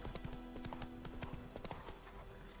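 Roach, the horse in the video game Witcher 3, moving at speed, a rapid rhythmic run of hoof clip-clops, fairly faint and steady, with a little game voice murmuring underneath.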